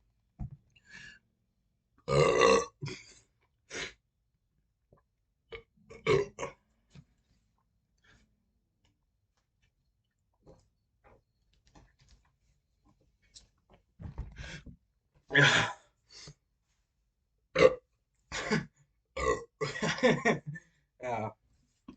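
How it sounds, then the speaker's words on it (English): Several loud belches after drinking fizzy soda, bursting out in irregular clusters with quiet gaps, close to the mic, with a little murmured talk between them. "please excuse my burping"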